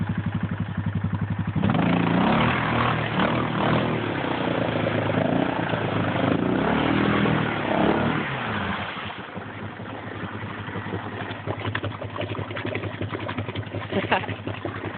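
A Yamaha Grizzly 600 ATV engine runs with its exhaust pipe underwater, a loud throbbing idle that rises in a rough rev and then settles back to a steady, gurgling putter.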